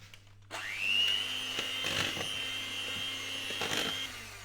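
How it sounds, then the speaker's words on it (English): Three eggs being whisked for toad in the hole batter produce a steady, close whirring with a constant high tone and a few faint taps against the bowl. "get your eggs in first and give it a little whisk"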